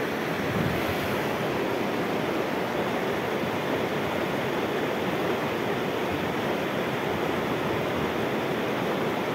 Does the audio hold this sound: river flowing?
yes